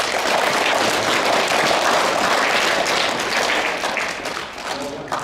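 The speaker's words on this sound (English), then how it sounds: "So like all you kids, give your coaches a round of applause." Children and adults applaud their rugby coaches at a junior rugby club prize giving, a steady, dense clapping that fills the room for several seconds before tapering off slightly at the end.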